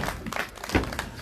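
Audience applause at a candlelight rally in Seongju, a brief burst of scattered clapping from a crowd welcoming the next speaker, moderate in level with a louder swell midway.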